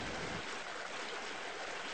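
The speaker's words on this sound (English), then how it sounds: "Or leaned against a tree and listened to streams flow." Stream water flowing steadily in a broad, even rush, close and continuous with no voices, set in a quiet natural scene among trees.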